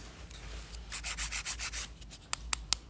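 Steady back-and-forth scraping of a file shaping an acrylic nail, close up, in a brisk rhythm ending with a few sharp taps.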